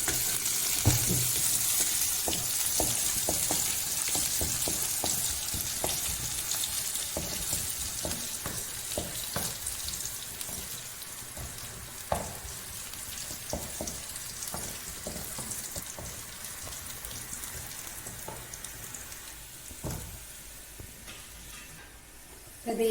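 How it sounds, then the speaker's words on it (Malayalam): Curry leaves and cumin frying in hot oil for a sambar tempering, a steady close sizzle and crackle with scattered pops and light stirring sounds. "പിന്നെ കരുവേപ്പില, കുറച്ച് ജീരകം, ഇതൊക്കെ പാട് കൂടി മൂപ്പിച്ചിട്ട് ഇത് സാമ്പാറിലേക്ക് വയ്ക്കാം."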